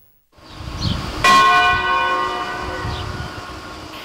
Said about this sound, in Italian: È arrivata con i rintocchi della campana della chiesa di Valle San Floriano di Marostica la notizia della morte di Deborah e Davide.